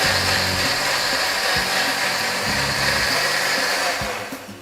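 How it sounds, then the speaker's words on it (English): A blender purees cooked vegetable soup of tomatoes and peppers, whirring in a steady, loud, close motor drone with a low rhythmic churning underneath, then winding down at the end. "Now it's time to blend the soup."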